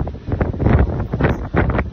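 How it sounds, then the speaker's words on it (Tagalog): Strong coastal wind at the Kapurpurawan windmills on Ilocos Norte's shore buffets the microphone in loud, surging roars that swell and dip continuously. "Ang lakas ng hangin guys"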